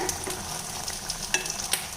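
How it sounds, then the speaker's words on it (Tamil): Greens sizzle steadily in a hot pan while a utensil scrapes and stirs with soft, irregular clicks, close and quiet, with no talking. "அப்படியே பரட்டி பரட்டி விட்டுட்டே இருங்க"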